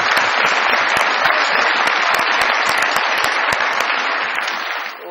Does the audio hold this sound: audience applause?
yes